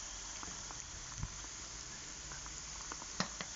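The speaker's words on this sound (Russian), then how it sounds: "жарится наш лук." Onions fry in oil for plov, making a faint, steady sizzle and patter with occasional small pops and crackles, heard close without talk.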